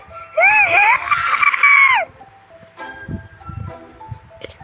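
A synthetic screaming sound effect, a loud rising and falling shriek for about two seconds, followed by quieter mixed noises and faint tones.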